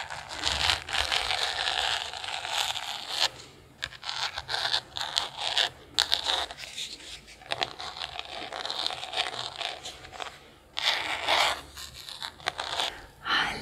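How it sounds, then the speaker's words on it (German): An ASMR eyeshadow palette is handled up close, with repeated scraping, scratching and crinkly crackling sounds coming in irregular bursts and short pauses, fairly quiet with no talk. "Weil die ASMR Lidschattenpalette, die macht krasse Sounds."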